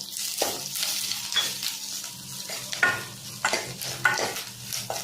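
Chopped banana leaf is sautéed in a pan for chutney, after tamarind and dried chillies, with steady sizzling and repeated stirring scrapes close by. No one speaks.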